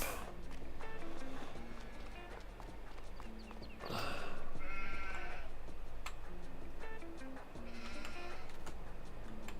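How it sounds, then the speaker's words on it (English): Sheep bleat repeatedly in the Farming Simulator 22 video game, several loud calls over a busy farm ambience with footstep-like clatter and steady background sound. "And then we fed the sheep."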